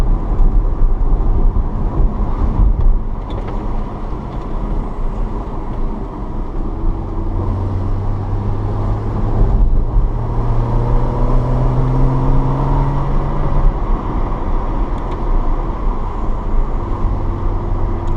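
A 2014 Porsche Cayman 981 with the 2.7 flat-six and PDK gearbox drives past steadily, its engine droning loud and close with rising and falling tones as it shifts, no voices over it.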